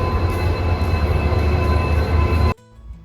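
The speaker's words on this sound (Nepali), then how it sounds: "अब यहाँ हेरौँ रेल एकचोटि हेरौँ" A train rumbles loudly and steadily close by at Raxaul railway station, a continuous heavy drone that cuts off abruptly near the end.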